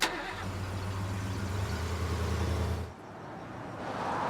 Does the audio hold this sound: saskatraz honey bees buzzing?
no